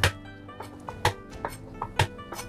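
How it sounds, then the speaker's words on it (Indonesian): Peeled garlic cloves being smashed with a knife on a board, a series of sharp separate knocks and whacks at an uneven rhythm, close and fairly crisp, with quiet pauses between the strikes. "Lalu saya tambahkan dengan 3 siung bawang putih, jangan lupa dicuci bersih, dan ini saya geprek"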